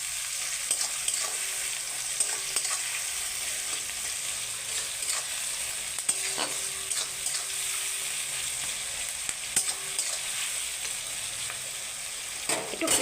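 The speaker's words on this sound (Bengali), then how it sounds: "পেঁয়াজটা লাল লাল করে ভেজে নেব" Onions, lightly salted and sugared, sizzle steadily in a pan for a mutton curry while a utensil scrapes and stirs at intervals, a constant close frying hiss throughout.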